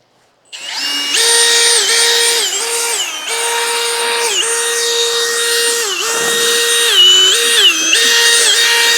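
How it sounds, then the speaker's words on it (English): A power drill fitted with a cleaning drill brush whines steadily at high speed while scrubbing an E46 car, loud and close, its pitch dipping briefly under load several times throughout. "You can get these drill brushes like anywhere."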